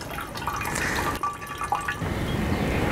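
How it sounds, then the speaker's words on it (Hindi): Water drips and trickles steadily as freshly made paneer for rasgulla is squeezed by hand to drain it, a close, continuous wet patter with small splashes throughout. "आपने बिल्कुल नॉर्मल नॉर्मल सा इसको दबाते रहना है और पानी आपने ड्रेन कर लेना है।"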